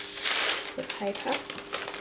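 Paper is peeled off a ganache-coated cake, giving crinkly rustling and soft tearing in irregular bursts while a person talks over it.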